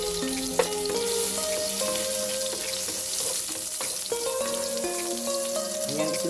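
Garlic hits hot coconut oil and fries with a steady, close crackling sizzle, punctuated by light clinks of a utensil against the pan.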